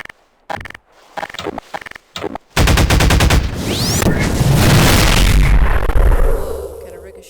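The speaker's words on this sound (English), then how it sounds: "Fire on the pulse rifle" Pulse rifle in Garry's Mod fires a few short bursts, then unleashes a loud sustained stream of rapid automatic shots with booming impacts and ricochet-like whines.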